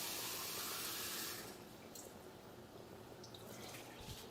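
Hot water poured into a big batch of homemade sauce, a faint steady hiss of running liquid that cuts off partway, followed by quieter drips and small clinks.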